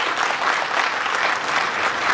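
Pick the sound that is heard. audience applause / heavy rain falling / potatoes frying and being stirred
audience applause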